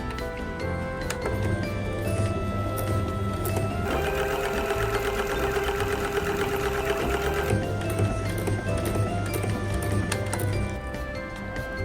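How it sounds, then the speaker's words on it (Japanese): A sewing machine stitches an apron pocket with a loud, close, steady mechanical whir and rapid needle chatter, running in two bursts with a short change in pitch between them and no voices. "両方縫います。"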